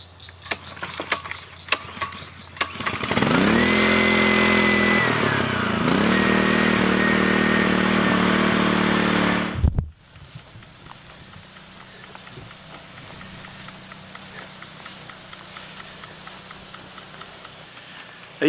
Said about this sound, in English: So this pump is the SE2UL ESHOC model pump.